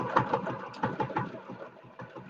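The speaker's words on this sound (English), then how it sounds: "Now, I'm going to just gently sew around this." A sewing machine stitches a crazy patchwork quilt block in short, uneven bursts of rapid mechanical chatter, close and moderately loud, pausing briefly between runs.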